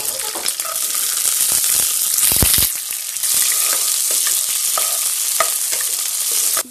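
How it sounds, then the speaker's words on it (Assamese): Peanuts fry in hot mustard oil in a pan, giving a loud, continuous sizzle and crackle with occasional stirring scrapes and a brief louder burst partway through. "তেলটো গৰম হৈ গৈছে, এতিয়া বাদামখিনি দি দিম।"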